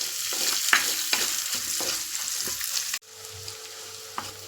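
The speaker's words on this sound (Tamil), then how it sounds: "இது நல்லா வதங்கட்டும். சின்ன வெங்காயம்" Small shallots sautéing in hot oil in a pan, a steady sizzle broken by scraping stirs, then a cut to a quieter, softer frying sizzle with an occasional clink.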